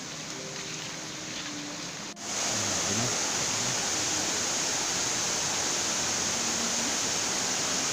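Sap Sombun waterfall in Thailand, a loud, steady rush of falling water that jumps up sharply after a brief dip and then roars on unbroken and close, with no talk.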